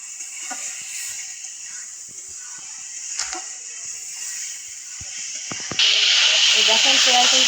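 Pigeon curry with spices frying in oil in a pan, a steady soft hiss with light crackles that jumps to a louder, brighter sizzle near the end.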